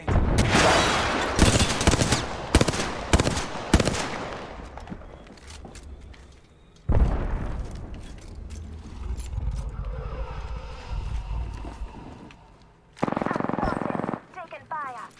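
Rapid gunfire in the battle royale shooter Apex Legends: dense sharp bursts of shots up front, then sporadic firing and a final loud burst, with voices talking between and over the shots.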